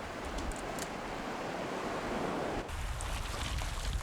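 Waves wash over the rounded pebbles of Gugyedeung beach in Wando, a steady broad roar of surf with wind, briefly dipping before rolling on again.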